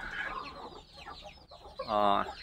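Local Nepali golden chickens clucking on a farm, a few short calls early on and a louder, sustained squawk near the end, with a rooster among the flock and some faint background voices.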